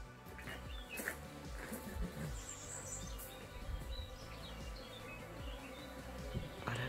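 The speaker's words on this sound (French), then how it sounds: "attention abeilles" A soft, steady buzz of bees at a honey farm hums throughout at low volume, with faint bird chirps scattered in the background.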